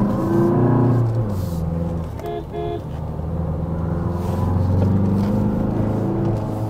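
An SUV in sports mode accelerates up a hill road, its engine a loud, steady rumble from inside the cabin, with a brief horn toot partway through.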